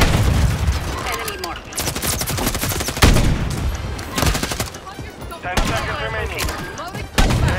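Gunfire in Call of Duty, with dense overlapping shots and bursts, loud and close, continuing throughout with a few heavier impacts, under game noise and a voice talking.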